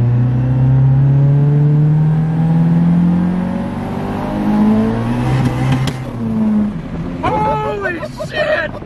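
A car with a 4EFTE engine accelerates hard in second gear, a loud rising engine roar with climbing harmonics, close by, ending in whistling and turbo-like chirps as it lets off; a voice is briefly heard.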